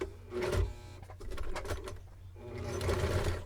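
A Kwik Sew k4203 sewing machine runs in bursts, top stitching fabric pieces with a steady mechanical whir and clatter that stops and restarts three times, close and fairly loud.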